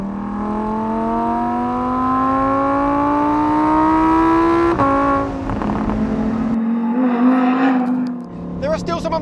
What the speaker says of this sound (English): you can drop this little window behind me so more of that wonderful V10 sound enters the cabin